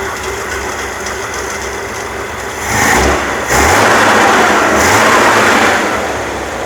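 A warm 1966 Chevrolet Corvair engine with a newly installed HEI distributor idles close up at roughly 850 rpm, a steady rumble that briefly swells louder midway before settling back, with no talking.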